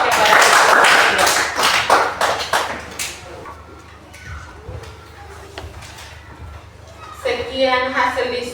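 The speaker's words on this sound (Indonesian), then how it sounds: "Kita berikan aplaus kepada siswa." Applause for students in a classroom: a loud burst of clapping for the first few seconds that fades under murmuring and scattered noise, with voices rising again near the end.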